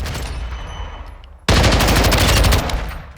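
Rapid automatic gunfire in Call of Duty Modern Warfare II, a dense burst at a very high rate of fire, loud and close, cutting in abruptly after a fading rumble and lasting about a second.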